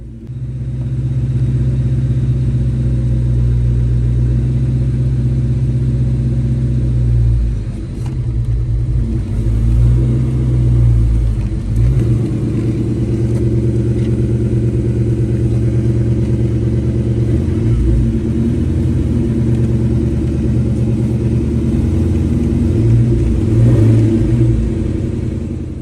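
A 1979–2004 Ford Mustang engine idling loudly and close, with a low steady rumble that dips and surges as the clutch engages, then settles back into an even drone, with no talking.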